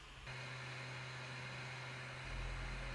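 A quieter Noctua fan fitted to an Ender-3 3D printer runs with a steady, smooth whir and low hum, continuous and fairly soft with no talking.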